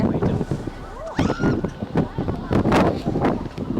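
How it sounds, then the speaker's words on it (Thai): Strong wind buffets the microphone on the summit of Fansipan mountain in Vietnam, a steady roar with gusts that continues under people talking close by. "ข้างบนนี้ลมแรงมากนะคะ"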